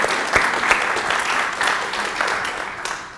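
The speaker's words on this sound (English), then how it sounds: "I think you all deserve a round of applause for yourselves" A church audience applauds steadily, a dense, even wash of clapping with a few sharper claps standing out, loud and close throughout before tapering slightly at the end.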